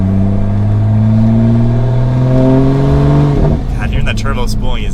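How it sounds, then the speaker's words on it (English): A modified 600 WHP wide-body Toyota Supra accelerates hard from inside the car, its engine tone rising steadily and loudly with turbo spool, then cutting off sharply into a hiss and flutter. "hearing that turbo spooling is insane"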